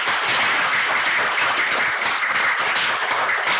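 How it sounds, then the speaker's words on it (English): An audience at a field station gives a dense, steady round of applause for intern presentations, a continuous close clatter of many hands lasting the whole stretch. "Give these people a huge another round of applause"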